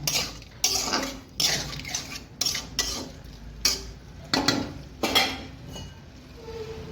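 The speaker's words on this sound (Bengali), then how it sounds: "এখন এখানে দিয়ে দেবো আমি এই ডিম তিনটা দিয়ে একটু ভালো করে একটু কষায় নিব" Eggs and boiled potatoes stirred in a pan, a spoon scraping and clinking against the metal in repeated strokes about every half second, close and steady with no talk.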